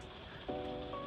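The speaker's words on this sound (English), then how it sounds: "rain noises as the background" Soft, steady rain falling outdoors during a summer vacation in Italy, a faint continuous patter with a brief low tonal hum entering partway through, no voices.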